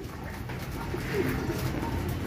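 Pigeons cooing in soft low murmurs over steady background noise outdoors in Ilocos, a few faint rounded coos close by, with no speech.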